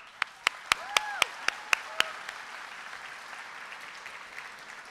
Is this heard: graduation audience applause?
yes